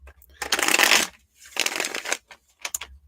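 A deck of reading cards is shuffled close by in three quick rustling bursts, the first two longer and the last one brief, with quiet gaps between them.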